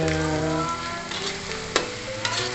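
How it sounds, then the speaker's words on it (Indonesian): Shallots and garlic fry in hot oil with a steady, close sizzle that runs the whole time, broken by a few sharp clicks of stirring. "Kemudian kita goreng bawangnya."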